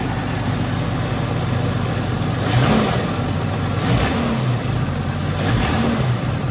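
The engine of a 1989 Jeep Wagoneer XJ runs steadily at idle, a loud close drone, with three short revs rising briefly above it.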